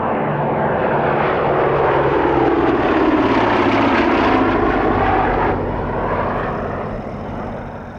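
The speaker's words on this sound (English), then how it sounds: "The Blenheim is displaying in Coastal Command markings of 254 Squadron." Bristol Blenheim twin piston engines roar steadily during a display flight at the Duxford airshow, a loud sustained drone with a shifting pitch as the aircraft passes, then slowly fades.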